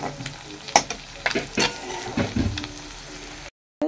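Beaten egg sizzles in a hot pan and is stirred into a scramble, with steady frying hiss and irregular scraping strokes of the spatula up close, ending abruptly.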